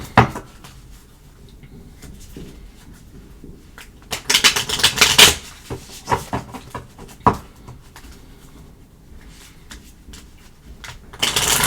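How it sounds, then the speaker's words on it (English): Cards being shuffled in quick riffling bursts, loudest in the middle, with scattered softer shuffles and taps around them, close to the microphone. "Let me shuffle."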